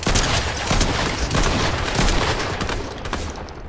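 Dense, rapid gunfire rattles continuously in Fortnite Chapter 5 Season 4, loud and close, with overlapping shots and no pause.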